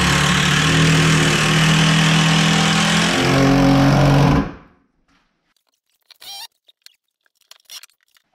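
A power driver sinks a screw into 2x4 lumber in one loud, continuous whirring run of about four seconds with the pitch shifting as it bites. It then stops abruptly, leaving near silence broken by a few faint clicks and handling knocks.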